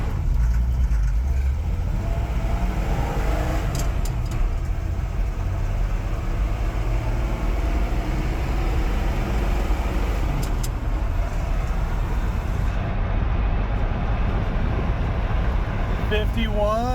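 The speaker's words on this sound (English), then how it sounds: "let's just punch the gas pedal on this thing, see what she does" 1968 Ford F100 pickup accelerating hard from a start in second gear on a 0 to 60 run, a loud, steady engine roar heard from inside the cab, with people talking over it.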